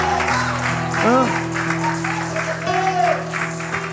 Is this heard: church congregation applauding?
yes